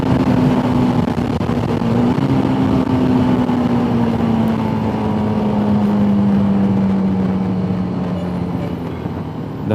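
Busy roadside traffic with trucks, a steady dense engine drone with one vehicle's engine note slowly falling as it passes, heard up close and loud throughout with no talking.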